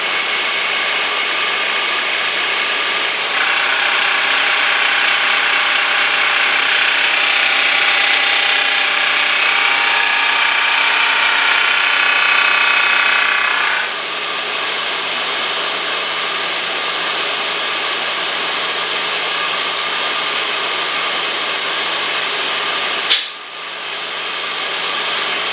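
A machine for making precision bushings, heard while reversing until it engages, gives off a steady mechanical drone with a higher whine in its middle stretch, then a single sharp click near the end.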